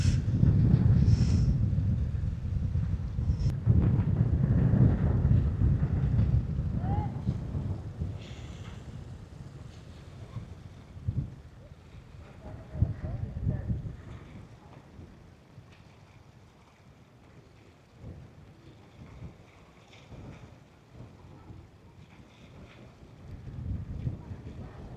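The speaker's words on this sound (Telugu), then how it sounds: "కానీ బాగా గాలి చాలా ఎక్కువ ఉంది గాలి." Strong wind gusting across the open shore of Kondapochamma Sagar reservoir, a loud, steady rumbling buffet on the microphone that eases off midway and swells again near the end, with no voices.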